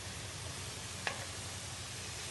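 Pasta and vegetables stirred in a hot pan give off a steady, quiet sizzle, with one brief sharp clink partway through and no voices.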